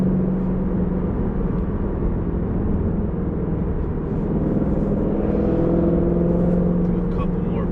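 A 2022 Ford Shelby GT500 Mustang heard from inside as it pulls hard, its engine a dense, steady roar that swells slightly toward the end, with a voice briefly over it.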